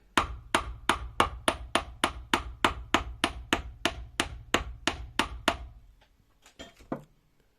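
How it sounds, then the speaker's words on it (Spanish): A hammer beats a wire clover pendant wrapped with 24-gauge wire in a quick, steady run of about sixteen crisp, close taps, followed by a pause and a few softer, scattered knocks. "Y vamos a martillar esta parte."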